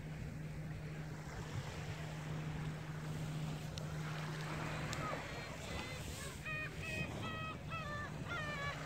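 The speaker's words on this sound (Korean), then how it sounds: "파도를 한번 치는 걸 볼까요?" Waves wash onto the broad sand at Daecheon beach under constant wind buffeting, with a run of seagull cries rising in the latter part.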